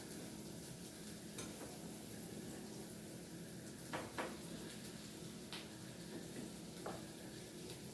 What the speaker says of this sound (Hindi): अब इसमें ये आलू डालूंगी भून के।